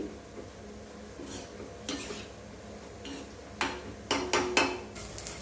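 Previously fried bitter gourd is turned over in hot oil in a pan, giving a few soft spatula clinks and scrapes that grow slightly louder toward the end, with a faint background hiss.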